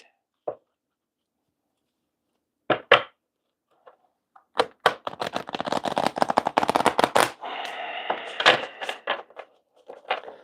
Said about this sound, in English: let's shuffle the cards here